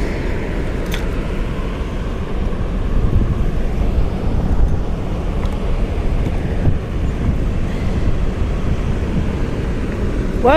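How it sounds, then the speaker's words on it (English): Steady wind rushing and buffeting against the microphone outdoors by a mountain lake, a continuous low roar without pauses and with no voices. "Man, this wind."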